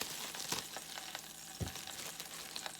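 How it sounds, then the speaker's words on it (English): Pita bread warms in a pan of hot bacon grease, giving a quiet, steady sizzle with a few soft crackles and occasional scraping or stirring clicks nearby. "take a piece of pita bread and kind of warm it up. Warm it up in the bacon grease."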